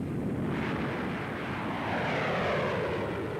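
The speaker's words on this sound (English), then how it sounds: "umont, Chief Test Pilot of English Electric, pilots the latest version of the Canberra jet bomber, which is now going into production for the RAF" An English Electric Canberra jet bomber flying overhead, a loud continuous roaring rush of jet engine noise that fills the whole moment without any voices.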